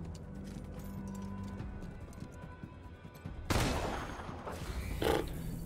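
Gunshots in the video game Wasteland 3 ring out as a sudden loud burst partway through over a quiet, steady background, followed by a further sharp shot near the end.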